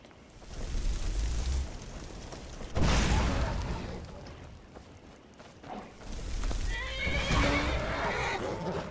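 Horses neigh loudly and whinny amid thudding hooves and rumbling game noise in a video game, with a few shrill calls rising near the end.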